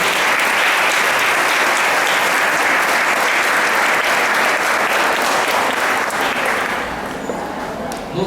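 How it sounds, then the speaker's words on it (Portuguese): Church congregation at a Corpus Christi celebration applauding, a dense, loud, sustained burst of clapping that tapers off near the end. "Um salve de palmas de novo para eles."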